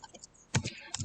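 A few soft, quick taps on a computer keyboard, faint and close, come in two small clusters during a short typing burst.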